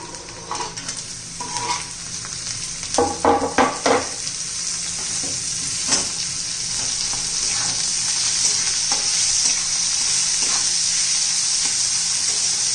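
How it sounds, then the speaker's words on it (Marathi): Onion sautés in a pan for spicy cluster bean (gavar bhaji) curry: a steady, close frying hiss runs throughout, with a quick burst of spoon scrapes and knocks early on and occasional lighter stirs afterward. "एक 2 मिनिटं कांदा चांगला परतून घ्यायचा, म्हणजे जरा मऊ होईल."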